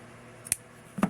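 Scissors snip through doll-pants fabric twice, a light crisp cut followed about half a second later by a fuller, louder snip, close and alone with no talking.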